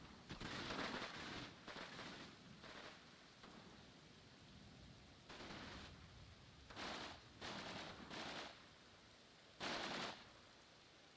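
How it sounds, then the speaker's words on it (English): Bursts of small-arms and machine-gun fire from the Combat Mission: Red Thunder wargame, several broadband volleys of varying length and distance spread across a low background rumble, with no talk. "Okay, they are shooting back."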